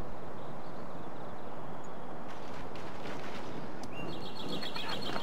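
Birds chirp faintly on a Shogun II battlefield, small tweets heard over a constant, dense rumble of massed troops and distant battle noise.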